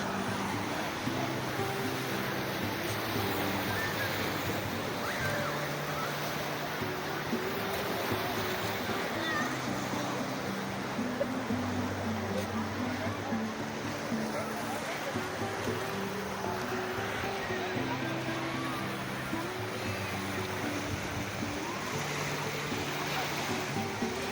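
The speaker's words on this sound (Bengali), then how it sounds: "সমুদ্রের পাড় ধরে আস্তে আস্তে পৌঁছে গেছি বাঘা বিচ।" Sea waves washing onto the shore at Baga beach, Goa, a steady, continuous roar of surf filling the whole stretch, with faint background voices and low hum underneath.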